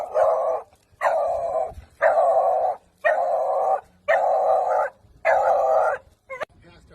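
A leash-reactive dog barks at another dog: six loud, close, evenly spaced barks in a steady rhythm, each held briefly, followed by a short yip.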